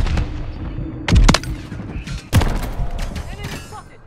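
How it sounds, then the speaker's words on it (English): Gunfire in a Modern Warfare 3 sniper match: two loud, sharp shots about a second apart, each leaving a rumbling tail, over busy in-game noise. "Taking fire over here"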